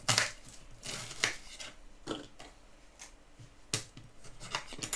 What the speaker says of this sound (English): Peeling and chopping the onions just enough to be able to get into the blitzer.